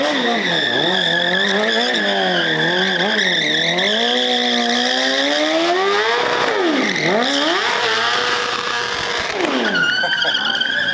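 A BMW stunt motorcycle spins in tight turns, its engine wailing and rising and falling in pitch as the rear tire squeals and burns, loud and close throughout with no voices.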